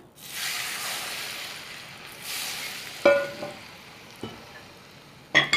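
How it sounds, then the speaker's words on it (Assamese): Hot oil poured over olive pickle gives a steady close sizzle that swells and fades, broken by a few sharp clicks and clatters toward the end, with no voices. "আৰু এতিয়া এই তেলখিনি এনেকৈ দি দিছোঁ এয়া গৰমে গৰমে"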